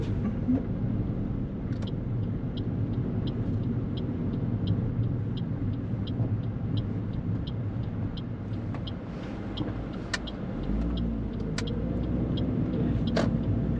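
A car drives steadily and turns right at an intersection on a New Zealand road, with a constant low engine and road rumble inside the cabin and a faint, regular indicator ticking, with no talk.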